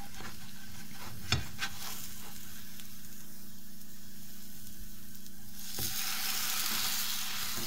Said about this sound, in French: On laisse bien dorer le temps que le fromage fond.